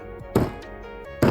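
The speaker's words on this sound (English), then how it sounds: "I'm just going to bang." Two dull thunks from a resin mold being banged to release a fast-cure resin and wood clock piece, heard against a steady background hum.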